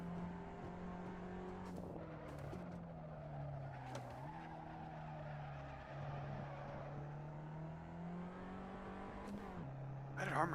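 A race car engine in a racing video game holds a steady, droning tone with brief shifts in pitch and occasional tire squeals, heard at moderate level with no voices.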